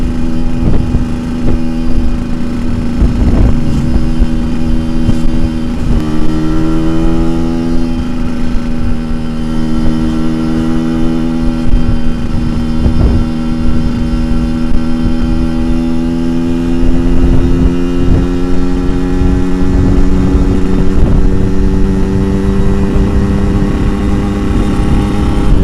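A Yamaha RX King two-stroke motorcycle rides at full throttle, its engine loud and close with a sustained buzzing drone that rises and falls in pitch as it accelerates and shifts, continuous with no talking.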